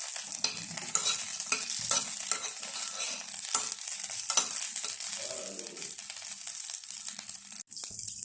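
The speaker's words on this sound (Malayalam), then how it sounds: "ഇനി മുളക് ഉള്ളി ഒന്ന് വഴറ്റിയെടുക്കണം." Chili and shallots sauté in hot oil for neer dosa, a bright sizzle broken by repeated scraping strokes of a spoon stirring in the pan, with no one talking.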